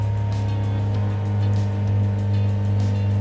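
A car engine idles at a steady raised speed of about 3000 rpm, producing a constant close drone with a strong low hum and only a slight swell in the middle.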